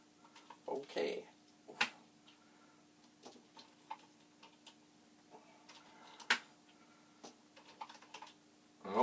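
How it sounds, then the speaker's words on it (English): Key caps being pried off a Commodore Vic-20 PET-style keyboard with a salad fork, giving scattered sharp plastic clicks and snaps at close range, spaced irregularly against a quiet background. "which has big prongs spaced out to pry keys off ever so gently"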